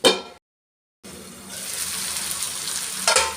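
Masala for paneer masala simmering in a pan after water is added: a steady soft bubbling sizzle, close and moderately loud, following a brief burst of sound and a short gap of silence.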